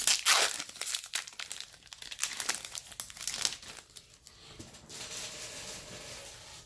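Crinkly foil wrapper of a Magic: The Gathering Ravnica Allegiance booster pack being torn open and crumpled by hand, close and continuous, with a softer rustle toward the end.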